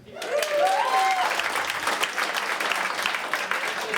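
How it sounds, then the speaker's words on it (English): Comedy club audience applauding, a dense burst of clapping that rises quickly and holds steady for a few seconds, with a few whoops and a voice briefly over it at the start. "Round of applause if you have children."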